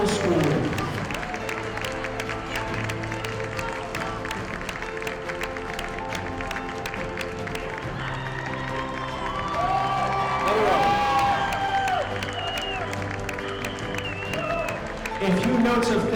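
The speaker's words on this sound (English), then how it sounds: "Let's get another huge round of applause for our cast." Applause and cheering from a middle school audience for the cast of a Black History Month show. Steady clapping and crowd noise continue under a speaking voice, with a brief surge of shouts and whoops near the middle.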